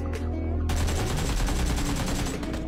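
Rapid bursts of AKM rifle fire in the mobile shooter BGMI ring out loud and close, a fast automatic rattle lasting a couple of seconds.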